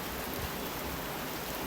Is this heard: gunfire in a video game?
no